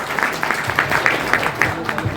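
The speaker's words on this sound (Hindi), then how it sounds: "तो सबसे पहले तो आप सब लोग अपने लिए तालियां बजाएं।" An audience at an electricians' meet and award ceremony claps for itself, a stretch of uneven applause with distinct individual claps that rise and fall, fairly close, with a voice faintly under it.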